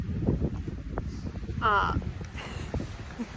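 Gusty wind rumbles and buffets a nearby microphone in a continuous low roar, with a voice speaking over it and scattered rustling.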